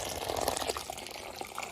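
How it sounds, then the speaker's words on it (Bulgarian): Boiling water pours into gelatin in a bowl, a close, soft continuous splashing and trickling with small bubbling plops, steady for the short moment with no talk. "сега наливаме врелата вода в желатина."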